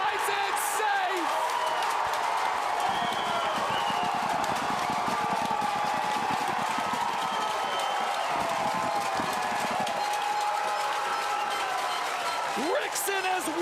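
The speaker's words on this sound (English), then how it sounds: "Rickson has whipped the crowd up into a frenzy" A baseball crowd at an Australian Baseball League championship game in Adelaide roars and whoops in a sustained, loud wash after an insurance run scores for the Giants, while a commentator talks over it.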